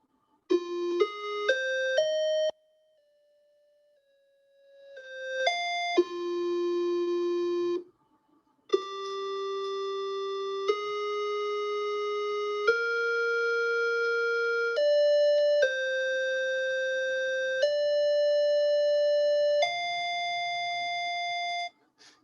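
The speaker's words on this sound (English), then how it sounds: "what you're going to hear is the primer first, and then the generated melody from the model" A short synthetic melody primer of a few quick bell-like tones, then a longer computer-generated melody from a recurrent neural network model, sustained electronic notes stepping between pitches in the same key, clean and alone.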